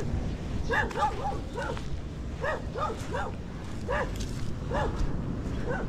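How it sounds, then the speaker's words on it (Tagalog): A dog barks repeatedly in short bursts, several barks spread across the clip over a steady background rumble, moderately distant. "Nahabol ako ng aso."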